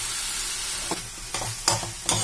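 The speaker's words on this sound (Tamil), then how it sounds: "இப்போ நல்லா கிளறிட்டேன், கிளறி வெந்துகிட்டு இருக்குது." Kaara poli mixture stirred as it cooks in a pan, a steady sizzle with a few scraping stirs of the spoon, close and alone.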